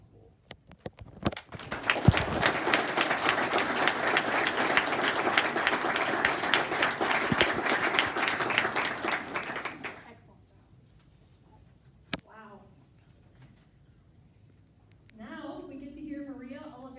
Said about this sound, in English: give a big round of applause to the people who have donated so much